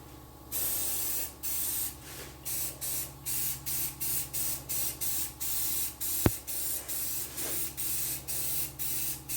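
A rattle can of spray paint lays racing stripes on a Spitfire in a rapid series of short, loud, close hissing bursts with brief gaps between them, plus one sharp click partway through.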